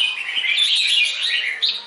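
A tame red-whiskered bulbul used as a decoy, kept for three or four seasons, sings a continuous, bright, warbling phrase up close and loud, with no other sounds around it.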